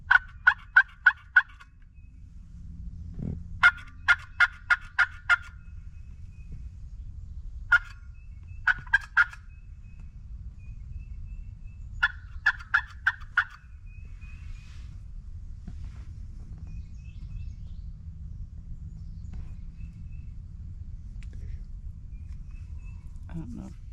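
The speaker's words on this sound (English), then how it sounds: "now we're going to see if we can call some turkeys in" Wild turkeys gobbling near a hunting blind, several sharp rattling bursts in quick clusters, moderately distant over a low background rumble.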